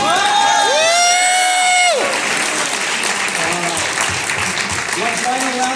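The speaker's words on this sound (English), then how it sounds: "One final round of applause," A large convention audience at BABSCon 2024 bursts into loud, sustained applause, with shrill whoops and cheers riding over the clapping at the start before it settles into a steady roar of hands.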